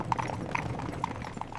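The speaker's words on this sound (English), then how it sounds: "A splendid carriage, drawn by 8 white horses, drove up to the castle gate" Horses' hooves clip-clop steadily as a splendid carriage drawn by eight white horses approaches a castle gate, the irregular hoof knocks sounding over a continuous busy background.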